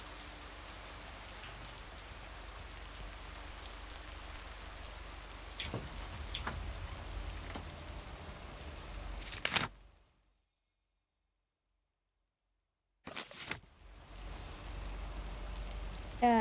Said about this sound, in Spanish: ¿Qué tal ese ASMR de lluvia,